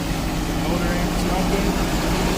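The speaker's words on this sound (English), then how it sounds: "That is idling smooth." A steady engine idle from a Mercedes W140 hums close by, smooth and even, with a person speaking over it.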